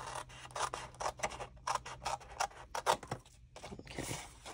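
Scissors snip through gift box paper in a quick series of close, crisp cuts, about a dozen short strokes in an even rhythm in a quiet room.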